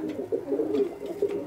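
Pigeons in a loft with their chicks coo softly and repeatedly, close by, in low throaty rolls with no talk.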